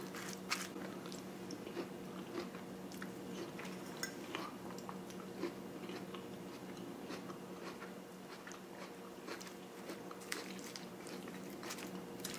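Close-up chewing of a crunchy sprout salad dressed with cilantro, lime and ginger, with steady rhythmic crunches and moist bites repeating throughout.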